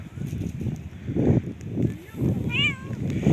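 A cat meows once with a rising-falling whine from inside a bus stop in cold weather, over street noise and people chatting nearby.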